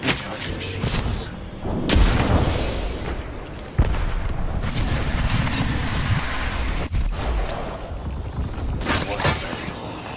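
Grenade blasts and heavy booms in a college football dynasty video game firefight, loud, dense rumbling with sharp detonations near two, four and seven seconds over continuous battle noise.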